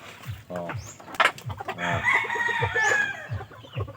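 Rooster crowing and hens clucking at a farm raising Darag chickens, a big-boned breeder rooster among the hens; loud, close calls in repeated bursts with overlapping clucks throughout.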